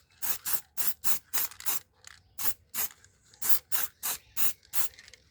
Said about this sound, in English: I'm gonna just spray it quickly